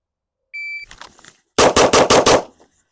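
A timed competition string of pistol fire: a start beep with a faint shuffle, then five sharp, loud shots in fast, even succession.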